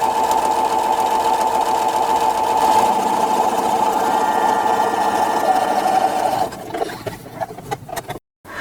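Sewing machine stitching a scant quarter-inch seam joining fabric strips, a loud, steady, close mechanical hum for several seconds, then slowing into a few stuttering stitches and stopping.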